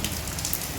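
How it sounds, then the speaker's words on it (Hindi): Rain falling on a village home, a steady, even hiss of drops with no talking, close and continuous through the brief moment. "बारिश हो रहा है"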